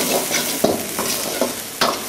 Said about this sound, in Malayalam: ആ പച്ചമുളക് ഇട്ടിട്ടുണ്ട്. അത് നന്നായിട്ട് വഴറ്റണം അല്ലേ?